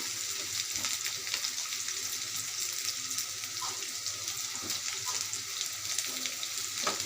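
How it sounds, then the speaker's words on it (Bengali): Onion, green chili and garlic frying in oil in a pan while cooking kalai greens, a steady soft sizzle throughout with faint clinks of stirring, no talking. "এগুলো আমার এখন লাল লাল করে ভেজে নেব"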